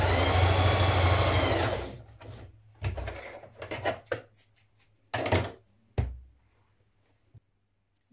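A sewing machine stitches a 1 cm seam on a Style Arc Teddy spring top, a steady close whir for about two seconds, followed by short bursts of stitching separated by pauses.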